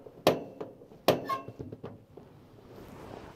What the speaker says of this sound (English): If you push down and turn and press the spark ignition here as well